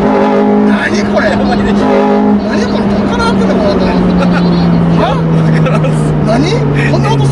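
A Honda Civic Type R FD2 with a modified air intake and changed catalytic converter revs hard, its engine note climbing in pitch and droning loudly and close, with excited voices talking over it.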